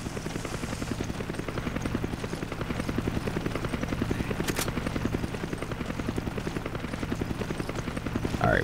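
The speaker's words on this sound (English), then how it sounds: "It's like that thing's trying to make me aim at the chopper." A helicopter in the video game Resident Evil 5 thuds with a fast, steady rotor chop, loud and close throughout, with the engine droning underneath and a brief sharp burst of noise near the middle.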